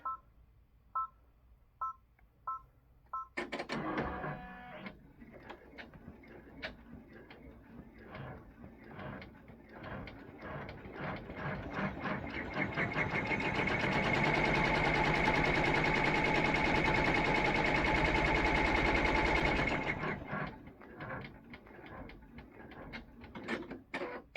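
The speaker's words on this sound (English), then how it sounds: "So the first thing I'm doing is running the placement stitch." An embroidery machine runs the placement stitch for a gingerbread cookie ornament applique, starting with a few clicks, then a rapid rhythmic mechanical chatter of needle strokes that builds louder in the middle before slowing and ending.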